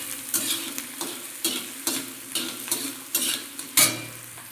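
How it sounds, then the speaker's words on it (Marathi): Chopped onion and cumin seeds fry in hot oil in a pan, a steady soft sizzle broken by repeated scraping stirs at an even pace, ending with a sharper metallic clack. "त्यात आता आपल्याला थोडंसं जिरं टाकायचं आहे आणि कांदा हा आपण चांगला गुलाबी होईपर्यंत भाजून घेऊयात"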